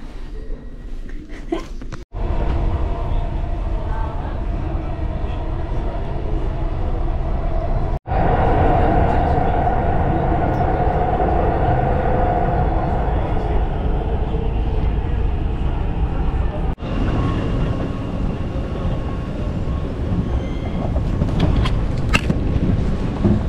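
A loud, steady rumble of a metro train running past in Baku, Azerbaijan, sustained for over twenty seconds with a few abrupt breaks.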